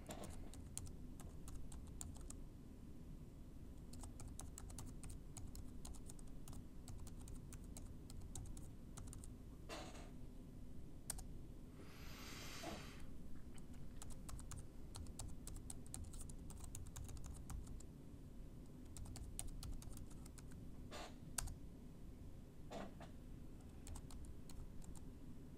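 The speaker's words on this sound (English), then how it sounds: "I'm typing a fictitious name and address." Quick, uneven clicks of a computer keyboard come from someone typing a name and address into a web form, faint and close in a quiet room, with a few brief louder taps.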